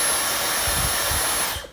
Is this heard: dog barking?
no